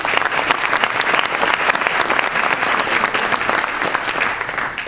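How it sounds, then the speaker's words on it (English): Audience applause fills a house of worship, a dense, steady wash of clapping hands from a crowd at a community law enforcement accountability meeting, sustained and fairly close without pause. "Can you clap for that?"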